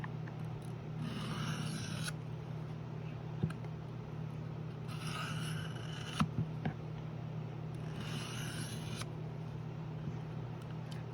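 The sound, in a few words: sharpening a high carbon steel knife on 1000 grit diamond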